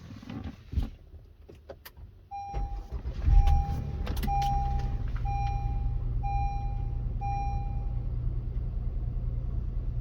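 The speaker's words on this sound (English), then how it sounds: "Now let's go ahead and start the vehicle." A car engine cranks and catches at about three seconds, settling into a steady low idle while dashboard chimes beep repeatedly. Before it starts there are brief clicks and bumps.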